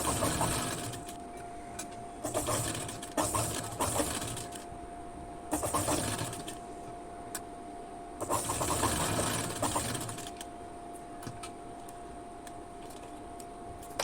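A sewing machine stitches the canvas-finished neckline of a kurti in several short, rapid bursts of mechanical whirring and ticking, with quiet pauses between runs.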